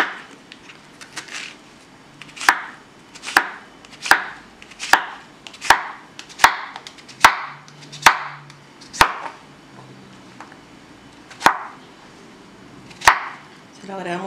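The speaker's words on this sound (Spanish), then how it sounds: "Vamos a picar la calabacita para agregarle." Zucchini being chopped with a knife on a board, a dozen or so sharp, close knocks in a steady rhythm that slows toward the end.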